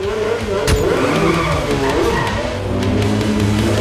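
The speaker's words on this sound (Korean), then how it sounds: "어두운 지하 주차장. 금주가 시동을 거는데요." A car engine turns over and runs with a low, steady rumble and some revving in a dark underground parking garage, loud and close, with a voice speaking over part of it.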